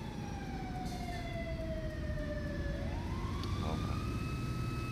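An ambulance siren in GTA 5 wails on a steady sliding tone that drops and then rises again, mid-distance over a constant rumble of traffic and engine noise, with no talking.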